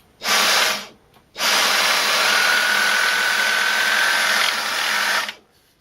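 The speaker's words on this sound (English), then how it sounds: "I'm going to just turn it over so you can hopefully see this blur of spinning fibres." A powered brush head on a Dyson DC44 Digital Slim cordless vacuum spins with a loud, steady whir, a brief burst followed by a pause, then a longer run of about four seconds before cutting off.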